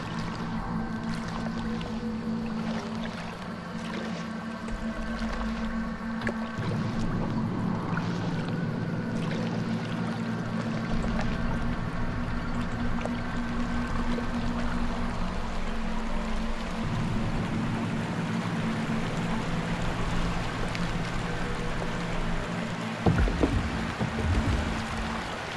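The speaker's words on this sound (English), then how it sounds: "we're gonna keep paddling forward now" A canoe being paddled through water in the horror game Outlast II, with a steady wash of water and low droning ambience running throughout and a brief louder splash or knock near the end.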